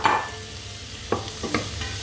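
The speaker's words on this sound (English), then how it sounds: "we will add in our celery" Celery dropped into caramelized, golden-brown butter, giving a steady soft sizzle with a few sharper stirring scrapes near the end, close and alone without talk.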